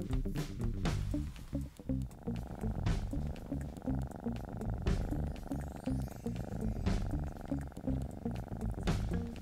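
A cat purrs loudly and close up while reacting to catnip, with a steady rhythmic rumble of repeated breaths and a few soft bumps and rustles over it.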